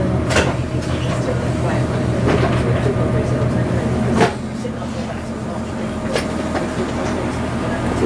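A passenger train rumbles steadily from inside a carriage while arriving at Brough station, with sharp clunks and a sudden drop in level partway through, and talk faintly beneath.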